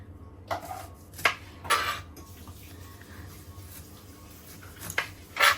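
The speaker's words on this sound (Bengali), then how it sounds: "আমি আরেকটা লেবু কেটে দেখিয়ে দিচ্ছি" A lemon cut with a knife on a board, a few sharp separate knife strikes and clicks against a quiet background, no talking.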